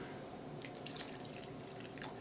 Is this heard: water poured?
yes